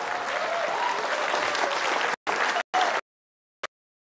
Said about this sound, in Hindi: एक बार खड़े होकर जरा गर्मजोशी से ताली बजा दीजिए